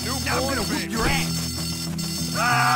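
Fire alarm ringing inside a school dormitory in the video game Bully, a steady electronic alarm tone running beneath loud shouting voices and fight noise.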